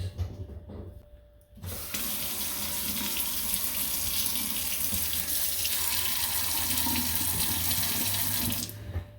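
A Kohler Crescent kitchen faucet, recently fixed for low flow on one side, starts running after a short quiet moment and then pours in a steady, close, even rush into the sink for several seconds before shutting off.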